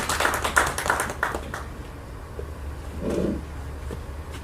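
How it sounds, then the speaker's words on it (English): An audience applauds at a formal event, a short burst of clapping that fades out after about a second and a half, leaving low room noise and a brief murmur. "So please, a big round of applause to Dr. Achyuta Samant."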